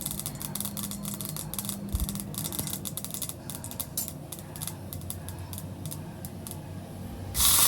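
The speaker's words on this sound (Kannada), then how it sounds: "ಸಾಸಿವೆ ಸಿಡಿಲಿಕ್ಕೆ ಸ್ಟಾರ್ಟ್ ಆಗಿದೆ" Mustard seeds splutter in hot oil in a pan for a quick vegetable stir-fry, giving a dense stream of sharp crackles and pops that stays close and steady throughout.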